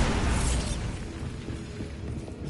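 Bombarda blasting spell explosion in Hogwarts Legacy: a loud, close boom with a bright burst at the start, settling into a rumbling, crackling tail of debris.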